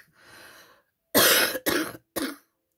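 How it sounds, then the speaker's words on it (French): A woman gives three harsh, close coughs in quick succession, the first longest and loudest, after a softer breathy rasp of throat clearing. "quand elle tousse comme ça"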